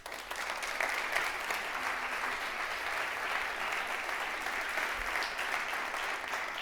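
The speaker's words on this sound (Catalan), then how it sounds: "vull que comenceu amb un fort aplaudiment per tots vosaltres" A large crowd at a Catalan press awards ceremony applauds steadily and continuously, a dense wash of clapping at moderate distance with no break.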